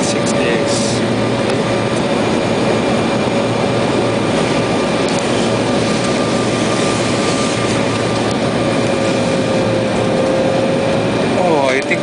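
Steady broadband roar inside the cabin of a Delta Embraer 175 jet on approach to LaGuardia, with a faint sustained engine tone and constant rushing air throughout.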